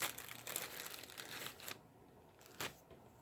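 Ribbon packaged in plastic being unwrapped, with close crinkling and rustling of the wrapping for over a second, then a brief quiet gap and one more short crinkle.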